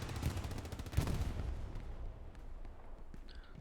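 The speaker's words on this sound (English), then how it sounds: "Still lots and lots of artillery coming down here" Artillery fire in a World War II video game: a quiet, continuous clatter of overlapping shots and dull bursts, busiest in the first second and a half and then thinning to scattered distant reports.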